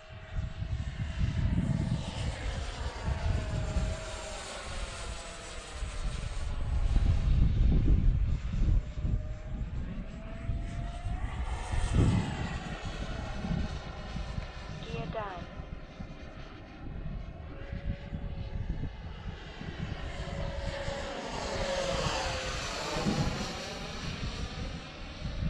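Model F-15 jet aircraft engine held at three-quarter throttle through a turn, a steady, continuous roar swelling and fading as it passes, with faint wind buffeting and no talk.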